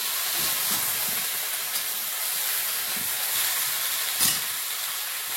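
Pointed gourd (potol) frying in hot oil alongside ginger in a home kitchen, a steady loud broadband sizzle with brief stirring clatters throughout and no talking.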